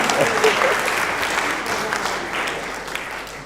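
Sustained crowd applause at an African curriculum conference, many hands clapping in a dense, even wash with some voices mixed in beneath.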